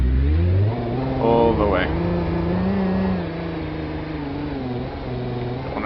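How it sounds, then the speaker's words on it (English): Toyota Land Cruiser 79 engine revving hard in low range and first gear in BeamNG.drive, a loud sustained mid-pitched drone with rising harmonics, while someone talks over it throughout. "Want to rev the bejesus out of it"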